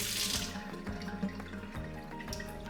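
Softened water runs from a tap into a sink, a continuous close rushing flow with small shifts in tone.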